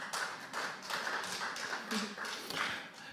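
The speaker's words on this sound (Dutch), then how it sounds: "Een mager applaus, maar het is een begin." Sparse applause from a small audience at a film discussion event, a few people clapping in uneven bursts for about three seconds, moderately close and thin rather than a full ovation.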